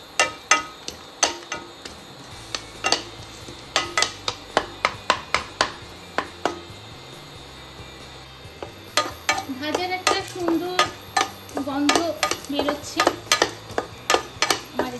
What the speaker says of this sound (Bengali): আমি মশলা মশলাগুলোকে প্রথমে একটু ভালো করে নেড়ে ভেজে নেব